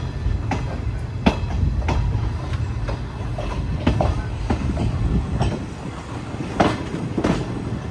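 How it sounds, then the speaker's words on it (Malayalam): The Yesvantpur Express pulls out of Kadur Junction in Karnataka, heard from on board as a steady low rumble with rhythmic clickety-clack wheel beats over the rail joints. No one speaks. "9:30 ആയപ്പോൾ തന്നെ നമ്മുടെ യശ്വന്ത്പൂർ എക്സ്പ്രസ് ഇവിടെ കടൂർ ജംഗ്ഷനിൽ നിന്ന് പുറപ്പെട്ടിരിക്കുകയാണ്"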